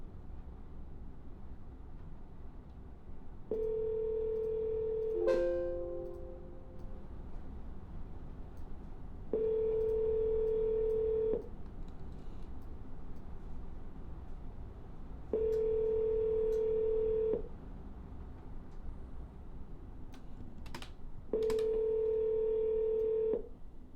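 Telephone ringback during a real estate cold call: four long steady tones at even intervals of about six seconds, each lasting around two seconds, with quiet line hiss between them and no voices.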